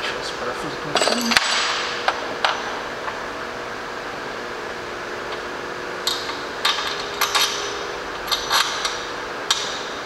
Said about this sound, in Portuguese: Ó, parafuso de alumínio. Pelo barulho vocês conseguem entender.